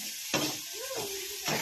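Food sizzles and fries in a pan in a home kitchen, a brief steady hiss with a short tonal squeak in the middle.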